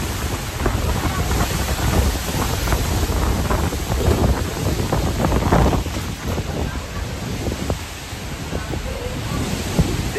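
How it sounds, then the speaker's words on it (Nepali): Wind and strong waves on Phewa Lake, churning the water and rocking boats, make a loud, steady broadband roar with gusty buffeting that runs throughout without letup. "फेवातल पनि समुद्र जस्तो लागिरहेको छ अहिले एकदमै छाल आइरहेको छ"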